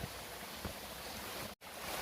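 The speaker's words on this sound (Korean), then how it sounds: "지금 옆에서 졸졸졸 물 흐르는 소리가 들립니다" Small stream trickling beside a mountain trail near a valley, a steady close wash of running water filling the background with no voices.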